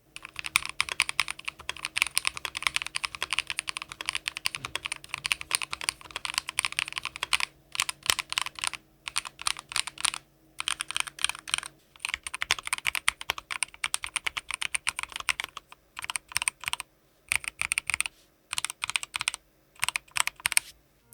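Rapid clicky typing on a mechanical keyboard with Akko Wine Red and Jelly White switches, in bursts separated by short pauses, crisp mechanical key presses close up with no voices.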